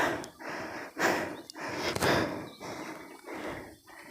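Heavy, rasping breaths, panting out in the hot sun at a lone house on a forested hilltop, repeating in rough bursts about every half second, fairly close and moderately quiet, with no talk.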